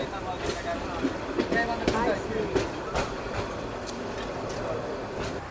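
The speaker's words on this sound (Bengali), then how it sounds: "এই যে দেখুন আমাদের ট্রেন বোনারপাড়া রেলওয়ে স্টেশনে প্রবেশ করছে।" The Korotoa Express pulls into Bonarpara railway station, heard from on board as a steady rumble with rhythmic clacking of the wheels over the rails and occasional clanks, while a voice talks over it.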